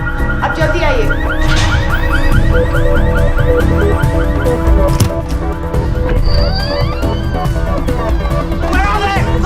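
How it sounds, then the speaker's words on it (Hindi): A green Volkswagen's car alarm blares with rapid, repeating warbling tones. A busy mix of movie action sounds and voices runs underneath, and a higher electronic beep cuts in partway through. "वो गाड़ी का अलार्म बज रहा है।"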